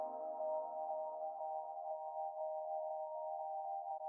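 A guitar chord smeared by endless H-Delay feedback into a steady, droning harmonic wash, sustained evenly and alone with a faint shimmer and no attack.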